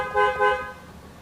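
A 2016 Toyota Grand New Avanza E sounds its horn in two short, loud, close honks in quick succession.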